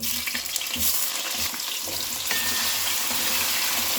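Potatoes and carrots frying in hot oil for a mixed vegetable korma make a loud, dense sizzle and crackle, with stirring and bumping noises mixed in, close and continuous, with no talking.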